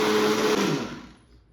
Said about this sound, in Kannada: ಒಣಗಿರುವಂಥ ಈ ಎಲ್ಲ ದಿನಸಿನ ನಾವು ಒಂದು ಜಾರಲ್ಲಿ ಹಾಕಿ ಪೌಡ್ರ್ ಮಾಡ್ಕೋಬೇಕು